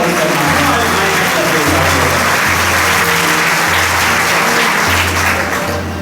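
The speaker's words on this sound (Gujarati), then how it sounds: "એટલે જોરદાર તાળીઓ મારો" Loud, sustained audience applause fills a Gurukul hall in Vadodara after a speech, steady dense clapping with a low hum beneath, continuing throughout.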